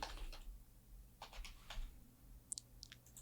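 A password is typed on a computer keyboard during web form coding, with a few faint, close keystroke clicks scattered in short clusters over quiet room hum.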